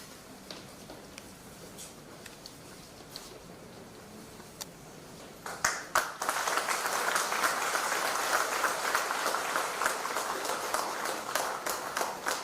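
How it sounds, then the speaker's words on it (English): Audience applause at a military commander's farewell ceremony: a quiet room with scattered ticks, then a dense burst of clapping that swells and holds steadily through the remaining seconds. "Thank you for the round of applause."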